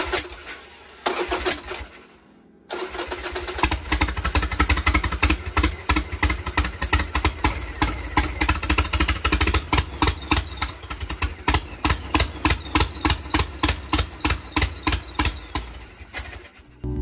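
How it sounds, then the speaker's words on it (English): Turbocharged Harley engine running with its ignition timing being adjusted, loud and close, with uneven pulsing firing and a rough stumble early on, then a steadier throbbing idle that breaks into a choppy rhythm near the end. "all I'm doing is advancing and retarding the timing until it runs well enough that I can put a timing light on it"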